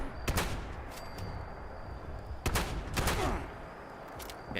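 Gunfire from the online survival video game Fallout 76: a few sharp shots with a gap between them, the first alone and then two close together, loud and without talk.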